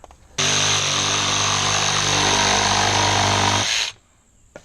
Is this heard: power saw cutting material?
yes